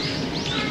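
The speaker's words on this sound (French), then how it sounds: "en écoutant le chant des oiseaux" Birds sing in a garden in Tokyo, with brief high chirps and whistles rising over a busy, noisy outdoor background.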